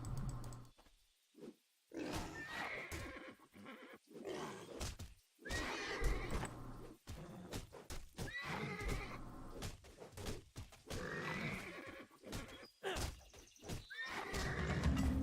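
Horse neighing in the video game Titan Quest, several loud whinnies rising over game music and ambient effects, with a brief quiet gap early on.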